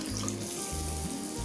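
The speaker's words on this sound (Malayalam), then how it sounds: "ഇതിലേക്ക് കുറച്ച് വെള്ളം കൂടെ ഒഴിച്ചിട്ട് ഇതിലേക്ക് ഒഴിക്കുന്നുണ്ട്" Water poured for a tamarind and ginger curry, Kerala sadya-style puli inji, as a steady close splashing stream heard on its own.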